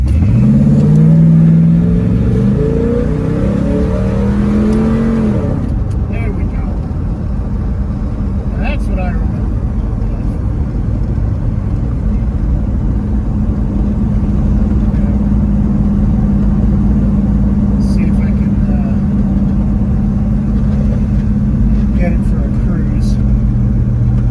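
A 1967 Pontiac GTO engine revs hard for a few seconds, then settles into a loud, steady rumbling drone.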